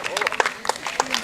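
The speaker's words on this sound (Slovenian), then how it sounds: "Mislim, da si zaslužite aplavz." An audience at a trail opening event in Slovenia claps in a brief burst of scattered applause, with a voice talking over it.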